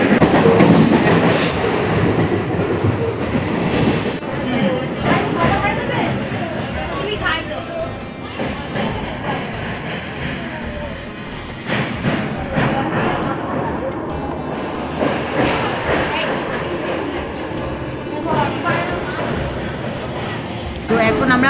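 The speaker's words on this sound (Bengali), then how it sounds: "ট্রেন ছেড়েছে।" A passenger train running, heard from inside the carriage: a steady rumbling roll with rattles and clicks throughout, while people talk loudly over it.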